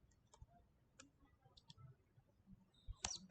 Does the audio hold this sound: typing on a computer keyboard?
yes